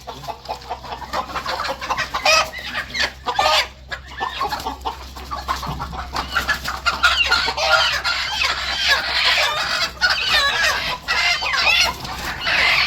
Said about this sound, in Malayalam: വെറൈറ്റി കോഴികൾ ആട് ഒക്കെ ഇവിടെ ഉണ്ട്